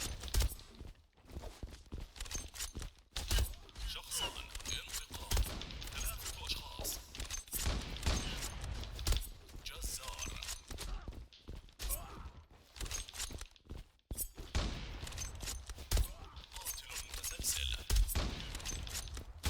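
Rapid bursts of gunfire from the online shooter game Zula fill the scene, dense and loud throughout with sharp cracks, footstep-like clatter and occasional shattering effects, with a voice talking intermittently underneath.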